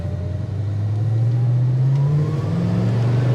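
A 1968 Dodge Dart muscle car with a 340 V8 accelerates away, its deep engine note rising steadily in pitch as it pulls out, loud and continuous with no talk.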